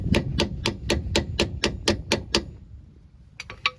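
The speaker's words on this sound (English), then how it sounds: "hammer it in a little bit." Hammer driving a tool into a front sway bar link on a 2006-2011 Toyota Camry, about ten evenly spaced metallic strikes in quick succession, then a pause and a few lighter taps, fairly close and moderately loud.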